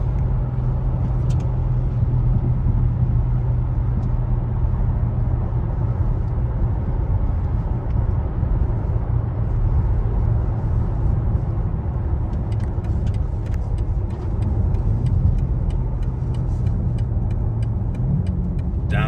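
A 2022 BMW M3 Competition xDrive engine drones steadily as the car accelerates, with a continuous low growl throughout and a brief shift in tone near the end suggesting a quick downshift; no talking is heard.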